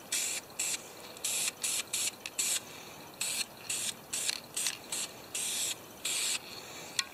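Homelite XP1020 chainsaw being coated with a paint sprayer: repeated short bursts of airy spray hiss, about a dozen on-off pulses of varying length, close and steady, with no talking.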